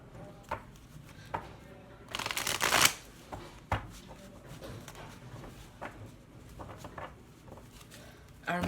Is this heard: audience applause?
no